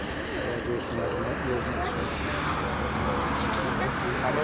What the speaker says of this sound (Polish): Zaraz usłyszę samolot. Zaraz go słyszę.